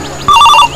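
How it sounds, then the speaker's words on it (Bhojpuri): A phone rings during a call, a single short electronic ringing burst that is clear and close, with no talk over it. "आज मलिया लगे फोन करत हूँ।"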